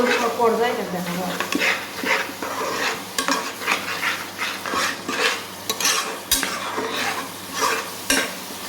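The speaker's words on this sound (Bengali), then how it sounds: "মশলা কষাইতে কষাইতে তেল বাইরে হয়ে আসবে" Spices being sautéed in oil for a chicken curry made with layer hen, with busy scraping and stirring of a spoon against the pot over a continuous sizzle, heard up close.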